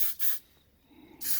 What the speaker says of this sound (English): I'm just going to spray in there a little bit of dielectric grease